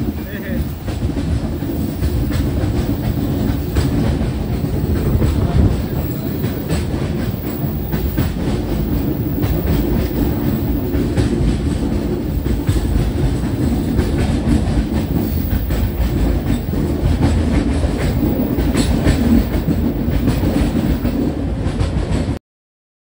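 Passenger train on the Goa to Hyderabad route rolling steadily along the rails, with a continuous close rumble and a clickety-clack rhythm from the wheels that runs loud and unbroken throughout.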